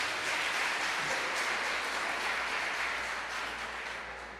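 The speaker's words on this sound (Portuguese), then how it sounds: "Vamos aplaudir ao Senhor, irmãos." A church congregation applauds during a Brazilian service, a steady wash of clapping that holds evenly and then slowly fades toward the end.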